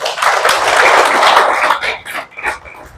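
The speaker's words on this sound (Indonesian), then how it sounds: "Mari kita tepuk tangan bagi Tuhan." A church congregation at a Sunday worship service claps hands together for God, a loud burst of dense, crowded applause that thins into a few scattered claps toward the end.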